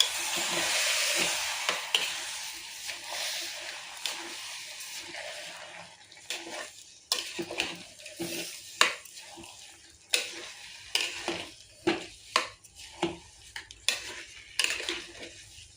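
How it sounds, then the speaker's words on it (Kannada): Pulao with rice being stirred in a cooking pot, a spoon scraping and clinking against the metal in irregular close strokes over a soft hiss, growing sharper and more rhythmic toward the end, with no talking. "ಮಿಕ್ಸ್ ಮಾಡ್ತೇನೆ ರೀ."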